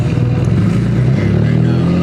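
Engine and exhaust note of a BMW with a single-turbo S55 engine, a loud continuous low rumble that swells slightly as it revs, steady and close throughout.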